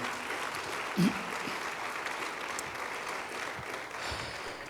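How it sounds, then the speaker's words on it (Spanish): Faint, distant applause from a church congregation, a soft even wash of clapping in a large room with a brief low voice sound near the start. "Denle un aplauso al Señor"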